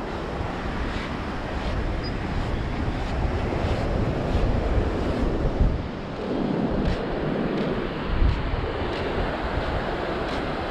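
Big waves breaking and washing onto the shore at Holden Beach, North Carolina, a steady loud roar of surf with wind buffeting the microphone throughout and no voices.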